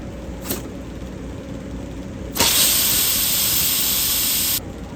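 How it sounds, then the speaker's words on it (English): A line on a 1972 VW Beetle is blown out with compressed air: a short puff, then a loud, close, steady hiss lasting about two seconds before cutting off. "Blow this line out right here."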